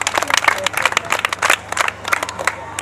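A small group of people claps in scattered, uneven bursts at the close of a tutoring lesson, fairly close and moderately loud, with a faint low hum underneath.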